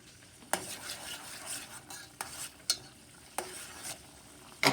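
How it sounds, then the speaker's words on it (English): A spoon stirs honey hot wing sauce with butter in a hot pan, soft sizzling under a series of sharp scrapes and clinks against the pan at irregular intervals, close and fairly quiet. "You just stir it up, stir it up, stir it up."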